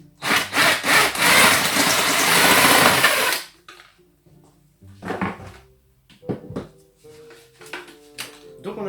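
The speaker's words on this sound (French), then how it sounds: "je vais me servir du trou que j'ai fait pour pouvoir mettre ma scie cloche, on la pose ici," A drill driving a hole saw bores a circular hole, a loud continuous grinding cut lasting a few seconds that stops abruptly, followed by scattered knocks, scrapes and handling noises.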